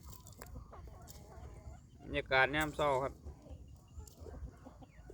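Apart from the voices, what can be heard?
chickens clucking around a rural home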